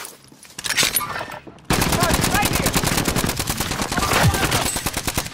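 Sustained, loud automatic gunfire from a player's Origin 12 loadout in the Call of Duty Warzone battle royale, rattling in dense rapid bursts that start quieter and then jump to a continuous barrage lasting several seconds.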